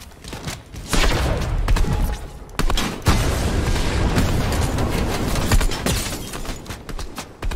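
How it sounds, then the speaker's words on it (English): Fortnite battle with rockets exploding and guns firing, heavy booming blasts and bursts of gunfire filling most of the stretch after a quieter opening, loud and continuous. "Watch out, you got rockets."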